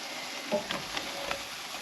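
Hash browns frying in a pan on a turned-down heat, a steady soft sizzle with a few brief crackles and stirring touches, close and fairly quiet with no talking.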